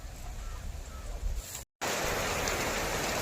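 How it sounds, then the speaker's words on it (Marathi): Unseasonal rain falls as a steady, broad hiss that grows noticeably heavier after a brief cut, with faint background noise beforehand. "तर हे बघा आलाय पाऊस"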